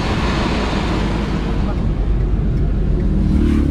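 A car drives a short distance in Davao, Philippines, giving a steady, loud rumble of engine and road noise with wind buffeting throughout.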